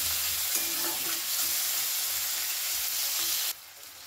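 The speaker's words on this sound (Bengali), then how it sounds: "আমি একটুখানি এটা নাড়াচাড়া করে কষিয়ে নেব" Spices with chilli powder stir-fried in a pan over a low flame for a fish curry, a steady close sizzle with scraping stirs that cuts off sharply near the end.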